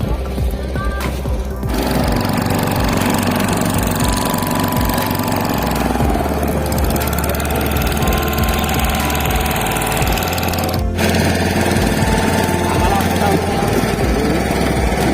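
A boat engine runs steadily with a loud, rumbling chug at a seaside tourist spot in Digha, close and continuous throughout, with a brief shift in tone near the start.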